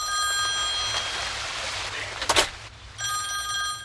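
A public phone booth telephone rings in the video game Sunset Overdrive, a steady ringing that runs loud, breaks off briefly behind a short burst of noise, then resumes over a low background hum.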